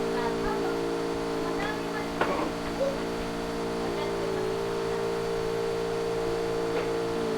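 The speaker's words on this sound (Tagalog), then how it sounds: "Ayun o, sasakyan." A video game vehicle engine hums steadily at mid distance, a sustained tonal drone with a couple of brief knocks, as players talk over it.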